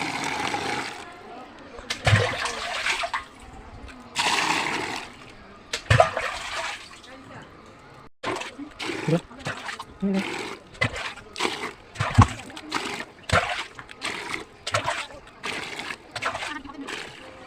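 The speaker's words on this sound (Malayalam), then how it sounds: "വെള്ളം കോരി ഒഴിക്കുകയാണ്" Water is scooped from a tank and poured out in a run of sharp, splashy bursts, near and fairly loud, with a voice heard now and then between the pours.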